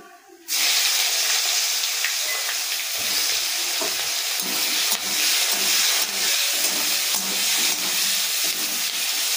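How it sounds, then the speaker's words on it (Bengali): Onion hits a hot kadai already tempered with black cumin seeds and bursts into a loud, continuous sizzle that stays close and steady with occasional stirring. "পেঁয়াজটা খানিকটা ভাজা ভাজা হোক"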